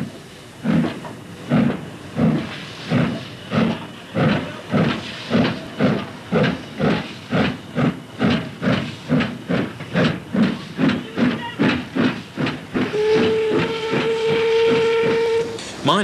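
An industrial steam locomotive on a colliery line labours up a steep climb past a level crossing on a main road, its heavy exhaust beats chuffing in a steady rhythm before a long steam whistle sounds near the end.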